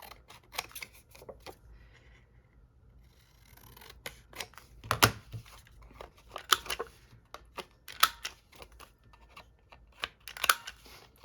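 Scissors cut paper for an envelope journal page spread. Crisp, close snips come one after another in an uneven rhythm, alone with no voices.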